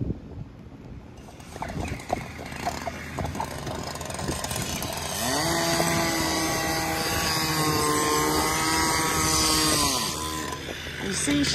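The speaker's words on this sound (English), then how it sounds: "It very kindly slowed the engine down" A boat engine passes close by on the water, its steady drone holding for several seconds and then easing off as it slows, while people talk over it.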